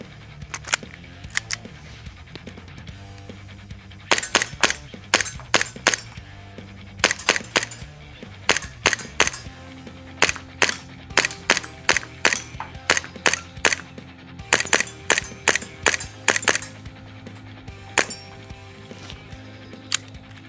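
Arcturus Vanguard Hi-Capa airsoft pistol firing at six targets, some foldable, in sharp snappy shots singly and in quick strings, some with metallic target clanks, separated by quiet pauses.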